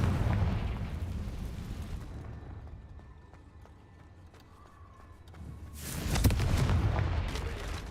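Explosive booms from the Confringo blasting curse in Hogwarts Legacy, a loud rumbling burst at the start that fades into a quieter stretch, then a second strong blast near the end.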